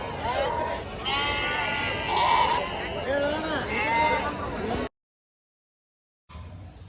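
Sheep bleat repeatedly at the Kerur sheep market, several wavering calls overlapping amid crowd chatter before a sudden gap of silence and more market noise.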